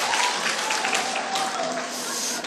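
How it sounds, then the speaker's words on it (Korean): A church congregation at a training session claps together, a steady, fairly close burst of applause at moderate volume, with a faint voice or tone lingering beneath the clapping. "박수를 너무 치게 해서 미안합니다."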